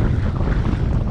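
Strong, gusting wind rushes over open water around a stand-up paddleboard with a sail in stormy conditions, a dense low roar buffeting the microphone throughout this brief moment, with no voices.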